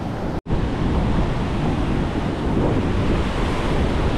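Strong, rough ocean waves crash and churn on the shore in a continuous loud roar, mixed with wind buffeting the microphone and a brief dropout near the start.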